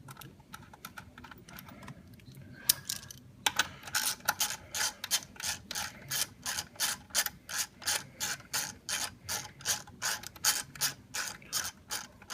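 A bolt is ratcheted back into the throttle body of an Infiniti G37. After a quiet start, a steady run of crisp, close metallic ratchet clicks follows in an even rhythm with no talking.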